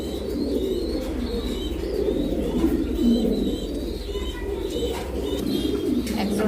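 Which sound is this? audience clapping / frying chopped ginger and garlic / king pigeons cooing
king pigeons cooing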